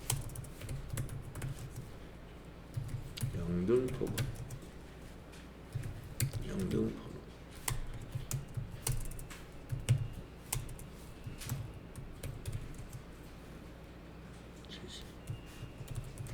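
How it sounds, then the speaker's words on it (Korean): Keys on a computer keyboard are tapped to enter a Seoul address into a payroll employee-registration form during an accounting training class. The clicks are quiet and irregular, with soft speech in between. "주소를 여기다 그냥 검색하지 말고 타자를 하시겠습니다"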